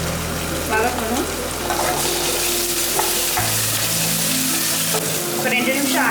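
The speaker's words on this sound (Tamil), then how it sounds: "அப்புறம் வந்து இஞ்சி பூண்டு பேஸ்ட் வந்து போட்டு ஒரு 2 மினிட்ஸ் நல்லா அந்த வாசனை போகிற வரைக்கும் வதக்கணும்." Chopped onion sizzles and crackles with ginger garlic paste in a pan while being stirred for restaurant-style chicken gravy, a steady close frying hiss with scraping stirs and a low engine-like hum underneath.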